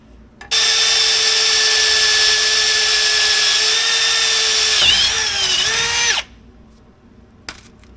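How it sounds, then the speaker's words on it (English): Drill boring a 5/16 hole, a loud close whine starting abruptly and running steadily for nearly six seconds, bogging briefly near the end before cutting off, with a faint knock afterward. "I got to drill a 5/16 hole and then run it in with the impact"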